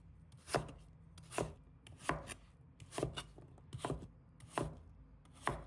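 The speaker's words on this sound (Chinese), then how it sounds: "再把它切成小块，块的大小可以根据个人口味来切" A knife chops potatoes into small pieces on a cutting board, giving a steady series of crisp, close thuds about once a second, each short and sharp with a soft knock beneath, with no talk over them.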